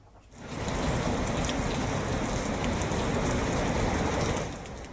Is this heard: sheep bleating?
no